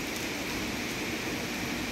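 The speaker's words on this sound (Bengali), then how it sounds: "এখন সকাল থেকেও হচ্ছে বৃষ্টি, কোনো থামার নাম নেই। দেখেন কী পরিমাণে বৃষ্টি হচ্ছে।" Heavy, continuous rain from a depression falling at a riverside home, a dense steady hiss with no pauses, heard alone.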